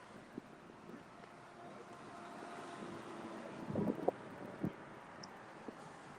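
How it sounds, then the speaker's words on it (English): Breezy outdoor wind in Key Largo, a steady low rush with light gusts and faint distant traffic, briefly broken by a few soft knocks near the middle. "So, a little breezy."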